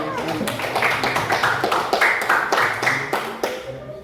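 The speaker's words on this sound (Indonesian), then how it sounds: "kita berikan tepuk tangan untuk kelompok 4" A class of students claps for a group that has just presented in a school lesson, a run of sharp, uneven hand claps close by, with voices talking over them.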